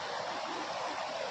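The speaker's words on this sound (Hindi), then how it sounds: "यहाँ पे झरने की आवाज़ आ रही है।" A mountain waterfall beside a path near Nathula Pass rushes in a steady, dense broadband hiss, continuous and fairly close, with no voices over it.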